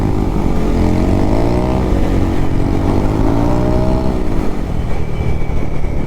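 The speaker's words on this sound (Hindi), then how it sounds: "तो ये देखो एग्जॉस्ट चेक करो आप लोग, एक्रा लगवा रखा है भाई ने अभी।" A Bajaj NS400 motorcycle fitted with an Akrapovic exhaust rumbles loudly up close, its deep engine note holding steady with a brief rise and fall in pitch midway.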